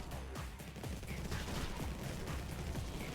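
Gunfire from units in the strategy game Infested Planet: a dense, continuous clatter of rapid shots at low level, steady and unbroken for a few seconds.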